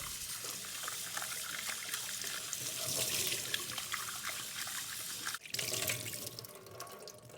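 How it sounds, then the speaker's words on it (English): Shrimp being rinsed under a running kitchen tap, a steady close hiss and splatter of water into a sink that continues throughout, with a brief interruption near the end before the flow resumes. "Rinse the shrimp again."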